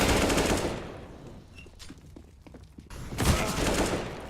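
AK rifle fire in a competitive video game match comes as rapid automatic bursts, a loud volley at the start, scattered single shots in the middle, then another loud burst near the end.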